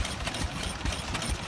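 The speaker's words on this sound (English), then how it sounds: "Steam engines!" Steam engines running at a village summer fete in the Kent Downs, a steady chugging mechanical drone with a low rumbling pulse, fairly loud and continuous with fete background noise.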